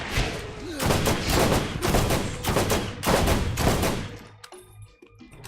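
Gunfire in Borderlands 1 during co-op play, heard as repeated loud, close bursts of shots in a steady rhythm that stop abruptly near the end, leaving quieter scattered sounds.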